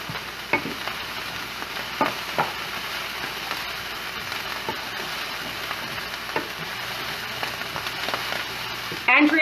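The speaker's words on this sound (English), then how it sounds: "I'm just going to add them to the stock." Browned vegetables tipped into soup stock for a chickpea lemon soup, giving a steady close sizzle with stirring and scattered clattering clicks, no voices.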